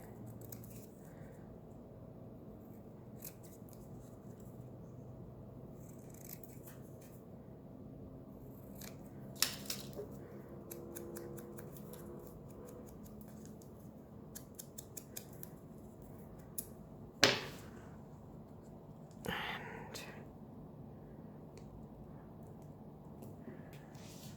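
Scissors snip through envelope paper in a few close, crisp cuts, with soft paper rustling and handling noises in a quiet room and no talking.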